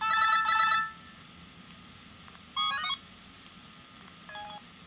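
Phone ringtones play in short bursts: a fast trilling ring, then a brief electronic melody, then a fainter beeping tone, each separated by quiet room hiss.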